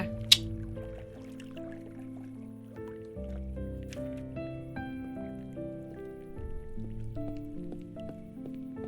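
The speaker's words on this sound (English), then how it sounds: "I love listening to water." Dripping water in the video game Cabernet, a few clear plinks, one sharp near the start, falling over a steady bed of soft tonal game music with no talking.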